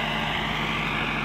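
A tractor engine runs at a steady, loud idle-like drone on a sugarcane planting field, with constant low rumble and no breaks, alone without talk.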